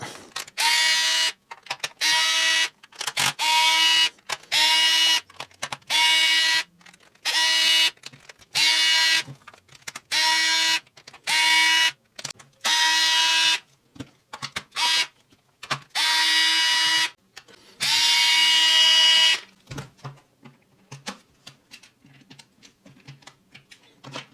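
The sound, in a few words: removing screws from a Parkside cordless hammer drill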